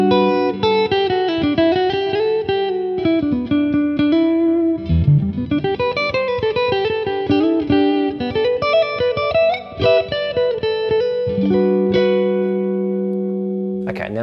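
Clean electric guitar on a single-coil pickup plays a bright, twangy melodic phrase of single notes and chords, ending on a sustained ringing chord, loud and close.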